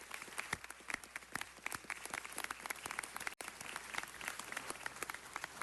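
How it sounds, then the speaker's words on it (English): A city council chamber crowd applauding Public Works employees, a continuous, fairly distant patter of many hands clapping that holds steady, with one brief dropout midway. "Let's give all of our Public Works employees a round of applause."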